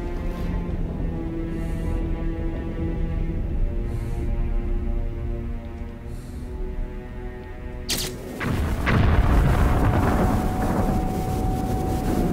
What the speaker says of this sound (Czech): Výbuch rakety.